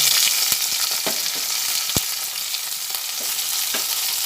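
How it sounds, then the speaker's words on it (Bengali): Chopped onion frying in a pan with a steady, dense sizzle that fills the whole stretch, broken by a few soft stirring knocks, close and continuous with no talking. "তারপরে পেঁয়াজটা ভালোভাবে ভেজে নেব"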